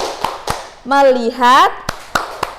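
A teacher leads a classroom focus-clap routine: four sharp, spaced hand claps, two before and two after a spoken chant in the middle, fairly close and crisp.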